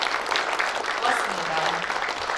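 Audience applause fills a Korean Journalists' Day ceremony hall, a steady dense clatter of many hands at an even level throughout, with speech faintly mixed in.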